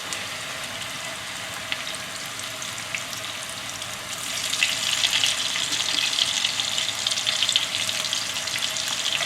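Cooked potatoes pan-frying with rosemary in a home kitchen, a faint soft sizzle that grows noticeably louder and crackly midway, close by with no talking.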